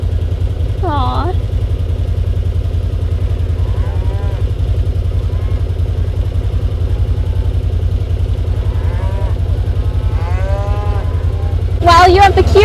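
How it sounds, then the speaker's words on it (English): Full-bred Angus cows on a ranch along the Rocky Mountain Front moo several times at a moderate distance, over a steady low engine drone, with a brief burst of noise at the end. "they are all full-bred Angus cows"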